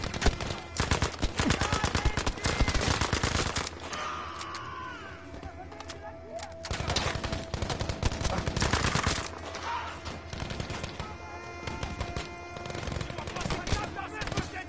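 Mounted turret machine gun in Battlefield 5, firing long, rapid, loud bursts nearly continuously with brief pauses, close and dominant over battlefield noise.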